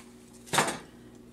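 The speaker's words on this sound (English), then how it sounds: "Then we're going to add 1 pound of ground sausage" A single clank of a metal pot or utensil as one pound of ground sausage goes into a pot for Zuppa Toscana, brief and close, followed by quiet.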